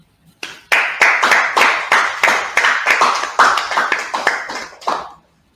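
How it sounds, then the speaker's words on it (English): A group at a brotherhood class claps hands together in a steady unison beat, about a dozen sharp, loud claps in a row before stopping. "All right, let's clap it up."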